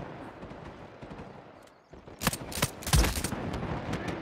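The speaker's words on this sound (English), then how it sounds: "Two shots and a headshot and you're not down" Gunshots in Uncharted 4 multiplayer, a quiet lead-in of faint game noise, then a cluster of sharp, loud shots in quick succession, some overlapping, with background action continuing.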